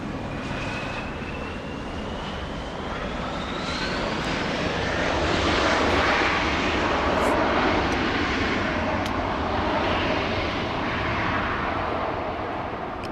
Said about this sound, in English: We're gonna zoom in to the Qantas A380.